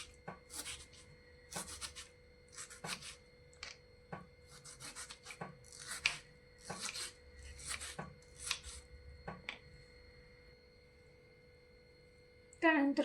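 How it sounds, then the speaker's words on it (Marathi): A knife finely chops tomato on a board in a home kitchen while making chickpea usal: quick bursts of close, crisp chopping strokes repeat in a steady rhythm over a faint hum, with no talking. "टोमॅटो पण एकदम बारीक चिरून घ्या"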